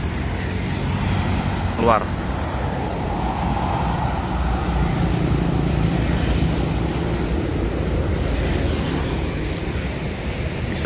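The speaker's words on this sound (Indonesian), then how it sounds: "Ada satu unit bus sempat start lagi mau dimandiin." A tour bus engine idles steadily in a parking area, a constant low rumble throughout with a brief voice heard over it.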